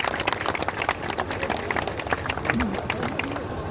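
Crowd clapping at an outdoor prize ceremony after a Run for Birsa race, a steady patter of applause running throughout, mixed with background murmur and a loudspeaker voice.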